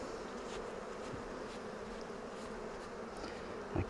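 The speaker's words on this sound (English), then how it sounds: "Okay, brushing those bees away." Honeybees crowd a hive frame, giving a close, dense, continuous buzz that holds steady throughout with a faint thump near the end.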